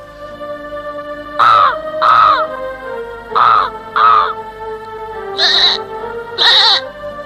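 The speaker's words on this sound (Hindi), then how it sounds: "इन कौओं को मिलकर दूर भगाओ" Cartoon crows cawing in a series of loud, harsh calls, in pairs and singles, over a soft background music bed.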